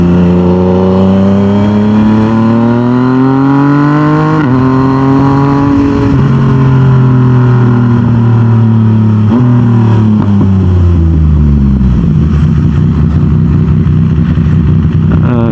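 A Yamaha MT-09 motorcycle engine warms up close by and runs loud and continuous, its pitch climbing and dropping through repeated revs with no voices over it.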